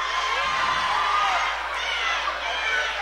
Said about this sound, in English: Northview crowd is starting to come alive behind us here.